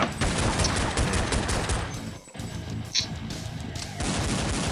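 Dense, continuous rapid gunfire from a Counter-Strike 1.6 pistol-only match, loud and close, with overlapping shots and crashes filling the whole stretch and a brief lull midway.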